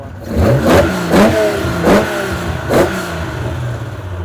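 A six-cylinder engine with triple Weber carburetors and no air filter revs in four quick blips at Daikoku Parking Area, each a throaty intake surge falling back to a rough idle, loud and close.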